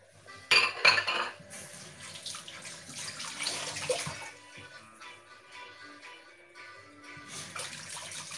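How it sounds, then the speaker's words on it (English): A wok is rinsed and cleaned with water in a home kitchen, starting with a couple of sharp metallic clanks, then running water and scrubbing, fading to quieter dribbles before the flow picks up again. "I'll clean my wok surface."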